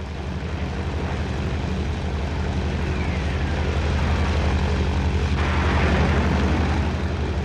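A T-28 propeller aircraft of the Laotian air force flies in 1966 wartime Laos, a loud, continuous droning engine roar that holds steady and grows slightly toward the end, with no voices.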